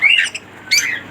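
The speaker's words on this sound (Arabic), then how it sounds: "طبعا معانا برضو تشكيلة عصافير روزا اللاتيني" Budgerigars (Australian parakeets) in an Egyptian bird shop collection, including Latino and albino colour varieties, give two short bursts of bright chirping close by, separated by a brief pause.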